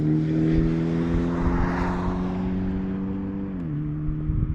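Hyundai Elantra N launching at a drag strip with wheelspin, a loud steady engine drone holding high revs before the pitch drops, heard from nearby with no talk.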